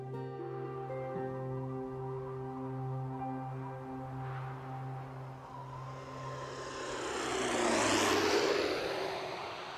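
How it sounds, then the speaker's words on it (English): A small propeller plane lands on the windswept Barter Island airstrip beside the Beaufort Sea. A steady engine drone with tonal hum shifts pitch, then swells into a rising whoosh as it passes close, with no voices. "My plane touches down on a 4-mile-long windswept strip of land known as Barter Island"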